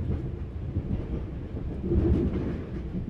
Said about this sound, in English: As the train continues, you feel its soothing vibrations and sways